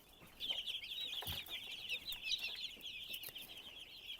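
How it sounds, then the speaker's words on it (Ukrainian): Broiler chickens cluck and chatter steadily in a dense, continuous flock murmur, fairly close, with a few brief knocks and no voices. "Ось такі ось гарні вже бролери поставали."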